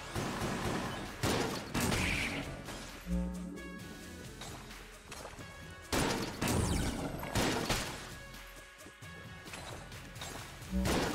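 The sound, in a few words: gunfire from a gun in the video game Enter the Gungeon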